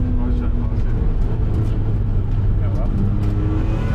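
BMW E46 M3 cars at a track day at Bedford Autodrome drone with loud, sustained engine noise, a continuous near roar with shifting pitch, with people talking over it.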